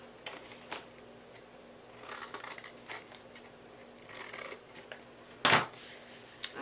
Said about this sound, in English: I'm going to just cut a little bit out of these.